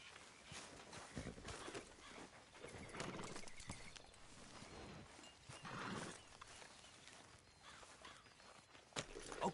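Horse hooves in Red Dead Redemption 2 clop at a steady walking pace over a soft background wash, fairly quiet and unhurried, with no talking.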